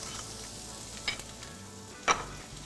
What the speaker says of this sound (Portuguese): Vou colocar aqui a cebola roxa.